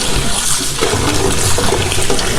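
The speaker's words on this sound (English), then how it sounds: "we will be washing our snails" Snails are rinsed and swished in a basin of water before boiling, with steady close splashing and running water continuing throughout, no voices.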